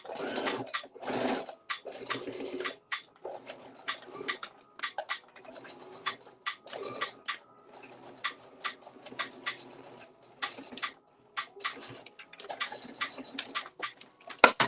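A sewing machine stitches scrap fabric for a mini skirt, running in short close bursts of rapid mechanical stitching with brief pauses and small clicks between runs.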